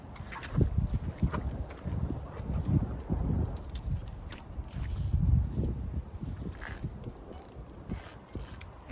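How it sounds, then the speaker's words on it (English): Strong wind buffets the microphone out on the water while fishing, with gusty low rumbling swells and some creaking and knocking from the boat, no talk. "wind's picking up crazy, like it's been crazy for a while now"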